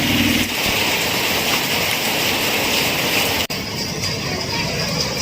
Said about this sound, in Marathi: मुसळधार पाऊस पडायला सुरुवात झाली चिपळूणमध्ये